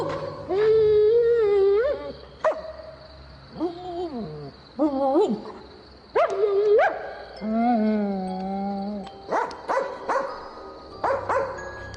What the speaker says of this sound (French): Je suis poursuivi par un chien!